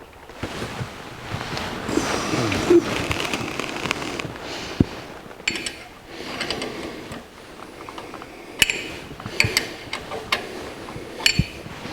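Ratchet clicking and sharp metallic clanks as a universal joint is bolted onto a two-piece drive shaft of a 1964 C10 pickup, scattered irregular bursts at close range with no voices.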